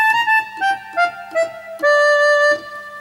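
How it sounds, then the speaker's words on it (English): Sustained reedy tones from a Lowrey electronic organ in its harmonica voice, several notes held and changed in sequence, steady and fairly loud with no talking. "and the harmonica down here."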